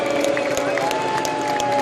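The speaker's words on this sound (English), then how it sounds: "let's have a round of applause, please" Crowd applause at an outdoor street rally in Whitehall, London, a steady wash of clapping and faint cheering from many people, spread and open-air, with a sustained tone running through it.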